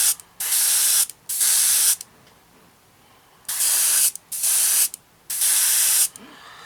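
An airbrush sprays a coat of paint onto a Wingnut Wings 1/32 RE.8 model aircraft in five short hissing bursts, each about a second long, close and loud, separated by quiet gaps.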